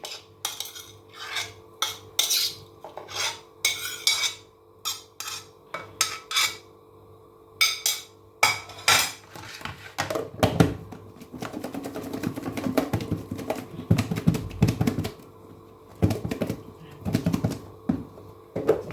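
Calamari is tossed into its marinade in a bowl with quick, close clinking and scraping of a utensil against the dish in rapid bursts, shifting partway through to wetter, denser stirring and rustling, with no talking.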